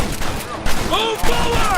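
A shootout in the video game Red Dead Redemption, with dense bursts of gunfire crackling alongside game voices shouting over the din.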